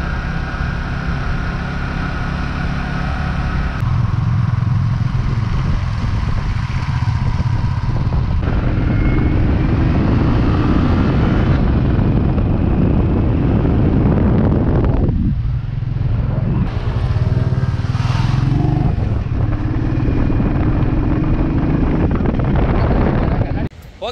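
A two-wheeler rides along Muzhappilangad drive-in beach, its engine droning steadily under heavy wind buffeting the microphone for the whole stretch, with brief shifts in tone as it moves along the sand.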